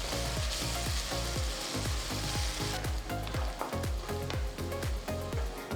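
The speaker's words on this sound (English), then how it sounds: "Fry the onions till they turn golden brown." Onions with ginger garlic paste and pepper powder frying in a pan for tomato egg curry, a dense continuous sizzle with rapid crackling bursts throughout, close and loud.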